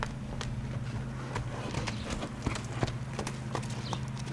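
Hooves of a mare being worked clip-clop in a steady rhythm of distinct thuds, close by, over a low constant hum.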